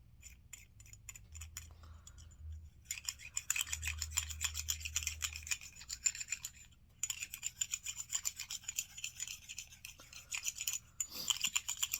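A small brush scrubs the feeding ramp of a Smith & Wesson SD40VE/SD9VE pistol, giving rapid, raspy back-and-forth strokes in close-up bursts with brief pauses between.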